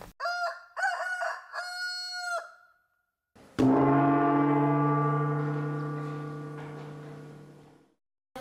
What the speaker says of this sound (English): It is said that the rooster crow heralds the coming of the dawn